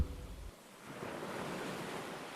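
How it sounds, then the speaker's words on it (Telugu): Sea waves wash on the shore in a steady broadband roar that swells after a short low rumble at the start, moderately loud and continuous with no voices. "ఈ సముద్రపు అలల శబ్దానికి నీ అరుపు వినపడదు"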